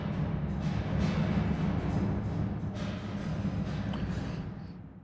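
A huge, fully wet reverb wash from a nonlinear feedback effect, a dense low-heavy smear of sound that swells and slowly fades, quiet and without voices.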